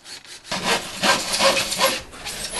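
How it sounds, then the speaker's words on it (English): A blade saws back and forth through dense insulation foam panels being trimmed to fit stud work inside a garden room. The strokes are close and rhythmic and rasp steadily for a couple of seconds. "More insulation panels are trimmed to fill the voids in the stud work."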